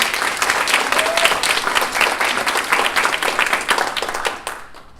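A large audience at a chamber of commerce breakfast event claps in a sustained, dense round of applause lasting several seconds, steady and loud before tapering off at the end.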